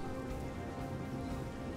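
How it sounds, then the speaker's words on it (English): Steady rain falling on surfaces in the video game Divinity: Original Sin, a dense, even hiss of drops holding at a constant level throughout with no voices. "The rain."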